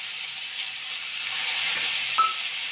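Onion paste frying in hot oil, a steady bright hiss of sizzling with a faint clink of a utensil near the end, close and without talk.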